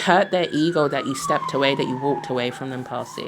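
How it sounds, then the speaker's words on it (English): A siren passes outside, its faint falling wail running steadily beneath a close voice that talks throughout. "So that's the siren. I'm not sure if you can hear it."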